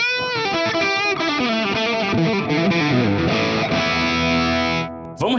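High-gain electric guitar through a Valeton GP-5 Marshall amp simulation with analog delay, distorted sustained chords and melodic notes trailing echoes, loud and continuous before cutting off abruptly near the end.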